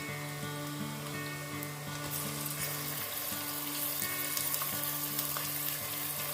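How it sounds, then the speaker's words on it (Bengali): Chicken mince sizzles steadily in hot oil with fried onions for a chicken ghugni, a loud, continuous close-up frying hiss with occasional stirring scrapes. "এবার এর মধ্যে আমি মাংসের কিমাটা দিয়ে দেবো"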